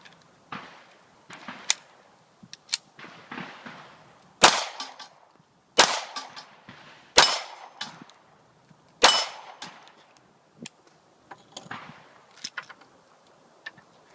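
Gunshots from a Smith & Wesson M&P Shield 9mm pistol loaded with an extended 8-round magazine, four loud sharp reports spaced about a second or more apart, with quieter clicks and clatter between them and no talking.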